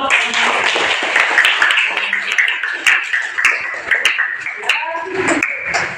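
Students in an Indonesian classroom applaud a classmate with a continuous, moderately loud patter of clapping hands, while voices and chatter carry over the top.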